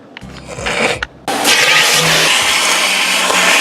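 A vacuum motor kicks on abruptly and roars loudly and steadily while cleaning the interior of a 20-year-old Chevy Silverado pickup, after a brief rumble of low engine noise.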